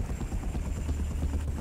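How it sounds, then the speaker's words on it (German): Helicopter in The Punisher video game, a steady low rhythmic rotor thump that holds at a constant level throughout, heard alone. "Ach, das ist ein Hubschrauber."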